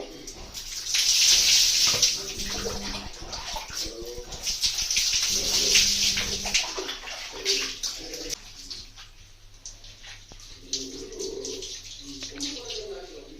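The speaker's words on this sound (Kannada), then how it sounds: "ಜಸ್ಟ್ ಹಂಗ ನೀರು ಹಾಕಿ" Water poured over hair during a home hair wash after henna, with splashing and running water, strongest early on, alongside a voice and faint bird calls.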